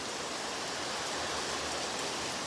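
Heavy rain falls in Jaffna, a steady, even wash of dense hiss at moderate level that holds without a break, with no voices over it.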